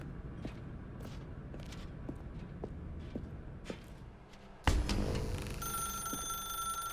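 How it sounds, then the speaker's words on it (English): In the video game The Stanley Parable: Ultra Deluxe, a telephone starts ringing midway with a bright, sustained electronic trill after quiet footsteps and ambient room tone. "Now pick up the phone."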